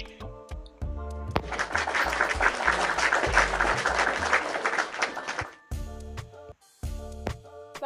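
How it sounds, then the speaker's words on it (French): Audience applause, a dense burst of clapping that swells in, holds steady for about four seconds and then cuts off, set between stretches of background music. "Ça mérite les applaudissements."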